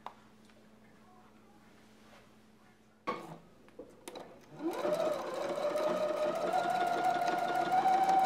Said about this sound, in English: I'm also going to sew on the legs.